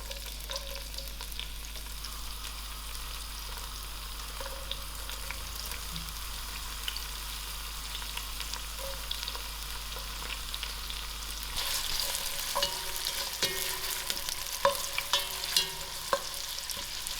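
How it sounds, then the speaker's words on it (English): Onions frying in margarine in a pan for spicy potato soup, a steady soft sizzle that grows brighter and crackles more near the end, close and alone. "While it's heating up, I'm going to add in my onions to it."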